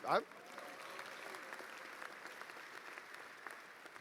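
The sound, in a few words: audience applause at commencement ceremony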